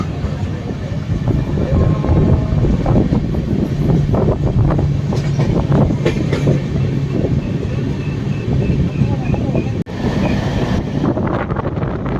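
A passenger train with new LHB coaches rumbles steadily along the tracks with rhythmic clattering wheels and wind rush, loud and continuous, heard from on board.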